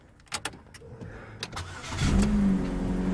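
A 2007 Chevy Cobalt engine starts up: a few clicks and brief cranking, then the engine catches about two seconds in and settles into a steady, close idle hum.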